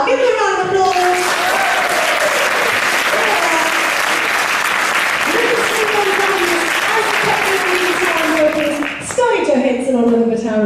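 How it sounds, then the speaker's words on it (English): A crowd at the 2017 Oamaru steampunk fashion show gives sustained, loud applause for a young band, steady clapping that continues while a presenter speaks over it. "Give them a round of applause."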